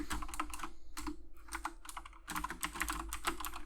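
Rapid, steady keystrokes on a computer keyboard while C++ code is written in Unreal Engine, close and crisp, with brief pauses between bursts and no talking.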